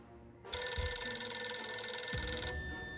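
A telephone bell rings loudly and steadily for about two seconds in a post-apocalyptic video game, a continuous bright metallic trill that stops abruptly, then fades into low ambience.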